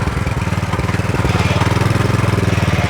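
A tractor engine runs steadily during potato harvesting on a farm, a loud, close, rhythmic low throb with fast regular pulses and no talk over it.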